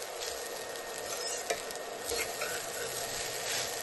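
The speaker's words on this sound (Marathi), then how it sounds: "छान अशी मस्त खिचडी परतून घ्यायची आहे." Sabudana khichdi is sautéed and stirred in a pan, giving a steady close sizzle with occasional light scrapes and taps of the spoon against the pan.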